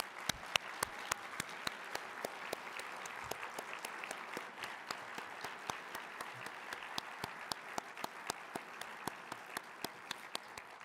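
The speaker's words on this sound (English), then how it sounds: "please offer another strong round of applause for" Steady applause from a crowd at a judicial excellence gala, many hands clapping continuously at a moderate, slightly distant level with no voices.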